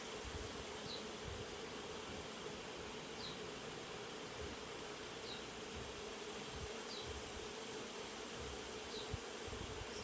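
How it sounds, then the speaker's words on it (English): Honey bees swarming over a hive frame during a backyard inspection, a dense, constant close buzzing drone that holds steady for the full ten seconds, with no voices. "just bees doing their thing"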